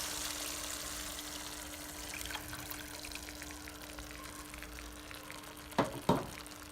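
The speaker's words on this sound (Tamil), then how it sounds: "இப்போ புளி பேஸ்ட்டு ஆட் பண்ணிக்கலாம்." Quiet sizzling in a pan, then two short sharp hisses near the end as wet tamarind paste is added, for a Tamil vatha kuzhambu.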